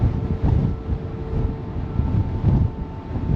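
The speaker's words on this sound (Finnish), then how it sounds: "Kannella tuulee." Wind buffets a microphone on the open deck of a ferry in Norway, a steady low roar with gusty swells, alongside the faint continuous drone of the ship.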